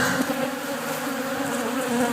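A thick, continuous drone of honeybees buzzing in large numbers during commercial pollination in Florida, loud and close with a steady hum and no talking.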